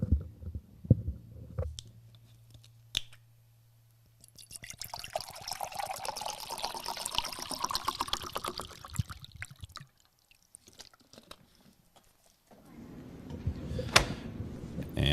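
Water poured from a bottle into a container at a courtroom desk, a gurgling, rising pour lasting several seconds after some handling clicks, then a brief second pour at the end; no talking.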